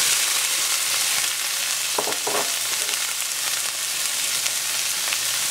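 Diced green pepper hits heated oil in a pan for Cuban chicken picadillo, giving a steady, loud crackling sizzle with a couple of brief stirring scrapes, no voices.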